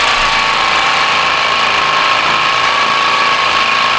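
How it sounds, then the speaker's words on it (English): A Sawzall reciprocating saw with a poor blade works at a seized, rusty bolt on the dump bed of a 7.3 Powerstroke truck, giving a loud, steady mechanical whine and rattle for the whole stretch with no voices. "I got the Sawzall, so got it halfway out, gonna try to cut it off."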